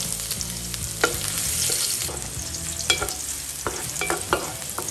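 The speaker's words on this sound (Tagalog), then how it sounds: "Unang natin gigisa yung luya." Ginger sautéing in hot oil in a frying pan for a Cebuano beef stew, a steady close sizzle with scattered stirring scrapes and clinks over about five seconds, no voices.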